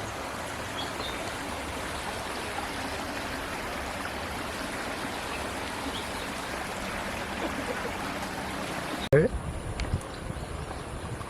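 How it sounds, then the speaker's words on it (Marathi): Sewage water from a village gutter pouring into the Bhatsa river, a steady rushing flow heard close and continuous, ending in a sudden handling bump near the end. "सर्व वासिन गावचं पश्चिमेचं गटारीचं पाणी या ठिकाणी नदीपात्रात सोडलं जातं."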